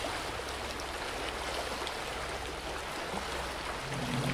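Rising water rushing through a flooding level in a video game, a steady broadband roar like a stream or heavy rain, moderately quiet and constant throughout.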